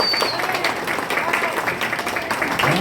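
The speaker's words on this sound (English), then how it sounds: "Give her a nice round of applause." Audience at a hypnosis stage show applauding briefly, a dense wash of clapping heard close and steady with voices mixed in.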